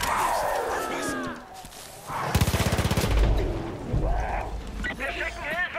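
Gunfire in the video game Far Cry 5: a rapid burst of automatic fire rattles out in a steady rhythm, followed by heavy low thuds, while voices shout and talk around it.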